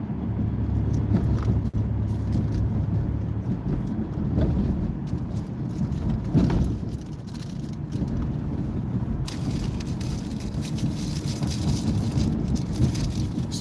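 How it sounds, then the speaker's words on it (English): Steady road traffic heard from inside a car, a continuous low rumble and tire roar with passing vehicles swelling and fading, fairly loud throughout with no talk. "Starting to be a lot of traffic right now."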